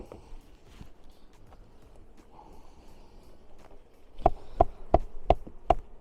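A faint honeybee buzz hums quietly around a hive in the background, followed by a run of five or six sharp, regular taps close by.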